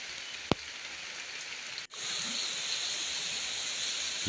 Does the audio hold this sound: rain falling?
yes